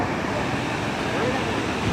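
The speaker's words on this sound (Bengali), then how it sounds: "উতাল সমুদ্র আছে" Rough, churning sea surf at Mandarmani beach, a steady broadband roar of breaking waves with wind buffeting the microphone, continuous and loud throughout.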